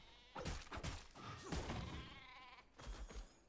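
Sheep bleating in the video game V Rising, several overlapping bleats with thuds in a busy game mix, moderately loud.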